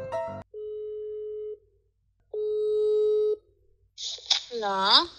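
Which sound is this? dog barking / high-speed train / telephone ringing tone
telephone ringing tone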